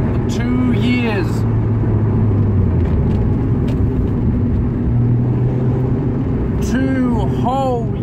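Single-turbo Toyota Supra pulling hard in fifth gear on a dyno, a loud steady engine roar with rising harmonic sweeps, and a voice talking over it throughout.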